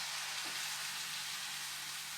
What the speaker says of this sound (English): I'm just going to add a little bit of boiling water to that.